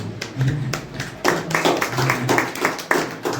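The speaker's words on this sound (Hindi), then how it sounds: "इनके लिए ताली बजाएगा।" An audience claps at a talk, a run of scattered hand claps that swells into denser applause partway through, fairly close and filling the room.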